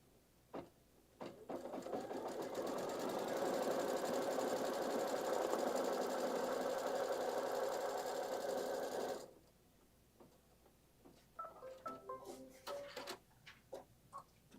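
A sewing machine stitches a straight line on an embroidered wall hanging, whirring steadily for several seconds up close. It then stops, followed by scattered clicks and handling noises.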